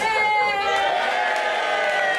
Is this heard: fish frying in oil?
no